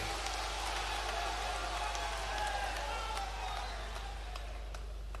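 A large crowd at a public event for tendu leaf collectors claps to welcome Chief Minister Mohan Yadav, a steady, even wash of applause that is sustained and somewhat distant throughout.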